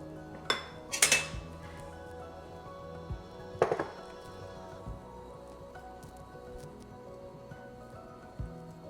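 A whisk clatters against a bowl as dry ingredients are worked into wet batter for Irish soda bread, with a few sharp metallic clinks early on and quieter taps after that, and little else besides a low room hum.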